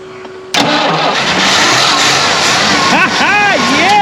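Engine of an abandoned Lincoln Continental, left for 32 years with sticky valves, cranks and catches at once, then settles into a loud, steady rough idle, with excited voices shouting over it near the end.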